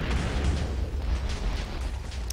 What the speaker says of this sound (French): J'ai beau leur envoyer je ne sais combien de boulets de canon.